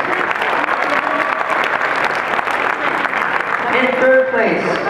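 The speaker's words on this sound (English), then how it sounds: "Applause for all of our 7x7x7 champions." Audience applause at a Rubik's cube championship, honoring the 7x7x7 cube champions: steady, dense clapping throughout, with a voice briefly speaking over it near the end.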